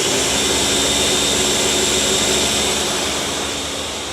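Hot chicken tikka masala sauce churns in a running blender, a loud, continuous motor roar with a steady high whine that holds for a few seconds and eases slightly toward the end, alone without speech.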